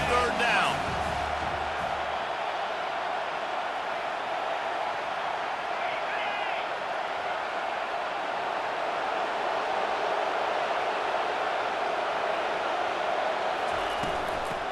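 A stadium crowd in the College Football 25 video game keeps up a steady roar during a third-down defensive stand. The loud, continuous noise runs through the whole stretch under a commentator's voice.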